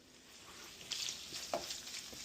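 Bacon frying in a pan on high heat, a soft continuous sizzle with a few brief crackles and pops, faint and close, no talk.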